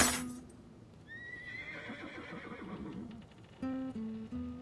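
A horse in the animated film The Road to El Dorado gives a loud whinny followed by hoof clip-clops, then a second sharp, bright neigh near the end, with no talking.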